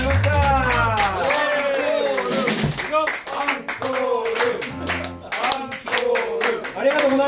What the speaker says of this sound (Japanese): 大きな拍手を、どうもありがとうございました